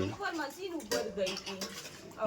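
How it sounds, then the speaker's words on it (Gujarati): Dishes are washed late at night: metal pots and cutlery clink and clatter in sharp, irregular knocks, close by, with a voice faintly at the start. "કુના ઘેર આટલો લેટ વાસણ ધોવાય છે"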